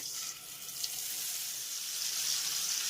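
Soaked spice paste hitting hot, lightly fried tempering spices in a pan for a vegetarian bottle gourd (lauki) curry, giving a steady, close, continuous sizzle and crackle that holds at an even level throughout, with no voices.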